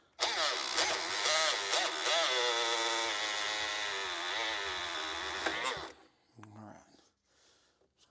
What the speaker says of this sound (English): we're going to drill a hole